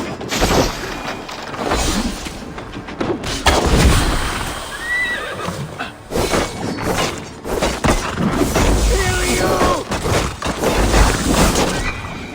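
Horses neigh and whinny in Assassin's Creed Valhalla during a night raid in Francia, several loud calls ringing over a dense battle din of clashing and crashing sounds with no speech.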